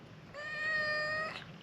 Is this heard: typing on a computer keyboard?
no